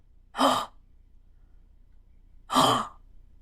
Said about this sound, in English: do the quicker version of it, which is the gasp